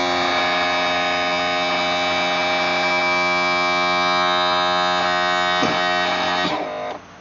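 An electric lift raises a 60 HP Johnson Evinrude outboard motor with a loud, steady humming drone that holds for several seconds and then cuts off abruptly near the end.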